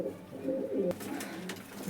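A pigeon cooing close by, a soft low-pitched coo lasting under a second, followed by a short rustle and quiet background.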